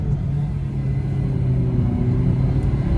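A Honda City and a Ford Aspire accelerate in a drag race, a loud continuous low engine rumble and road roar from inside a car, steady and close.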